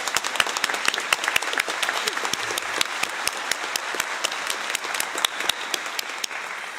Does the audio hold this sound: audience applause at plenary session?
yes